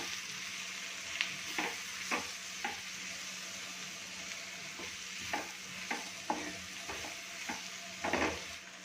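Dried fish, ambadi sukat, is stirred in a pan with a soft, steady sizzle underneath and intermittent scrapes and taps of the spoon against the pan, fairly quiet and close.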